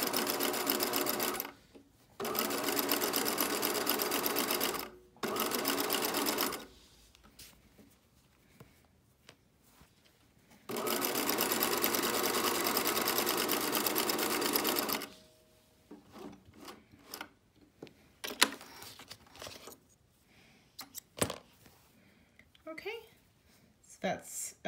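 A sewing machine zigzag-stitches elastic onto a pair of undies in loud, close bursts of rapid whirring, with pauses between runs and quieter handling noises, fabric rustles and soft talk in the gaps.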